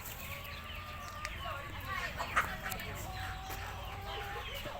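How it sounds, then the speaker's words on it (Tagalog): Chickens cluck on a farm among roosters and other fowl, several birds calling in scattered bursts at moderate distance, with voices chatting faintly in the background. "Astig ng mga manok oh."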